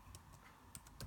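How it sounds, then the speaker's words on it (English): A person types on a computer keyboard with one hand, producing a few sparse, separate key clicks, close and fairly quiet, with no talking. "I'm typing with one hand"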